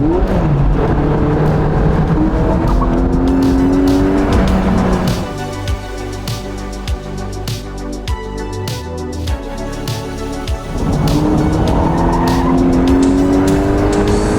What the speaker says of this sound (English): come up here on this winding road and absolutely thrash it